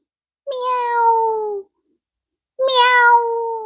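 A pet cat meows twice, each a drawn-out, clear cry about a second long, close and alone with a short silence between them.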